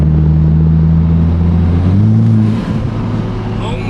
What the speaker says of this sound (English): The titanium intake sounds so good.